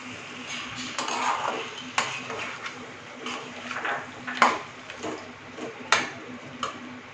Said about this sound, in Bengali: দিয়ে এটাকে ভালো মতন করে নাড়িয়ে নেব।